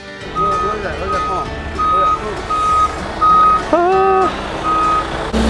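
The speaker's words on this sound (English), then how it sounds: "Hey, that's a heavy truck" A heavy concrete pump truck reverses on a home building site pouring footings, its backup alarm sounding a steady series of loud, evenly spaced beeps over a low engine rumble, with voices nearby.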